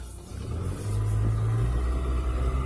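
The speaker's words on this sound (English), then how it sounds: "I'm sure my car is like extra loud on here without the air." A car's engine rumbles loudly while driving on a road, with the air conditioning off. Steady low road and engine noise swells slightly as the car speeds up, heard from inside the cabin with no one speaking.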